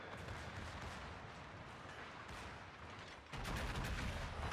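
Heavy main guns of the warship Yukon fire in World of Warships, heard as faint, muffled rumbling booms with a louder surge of blasts near the end.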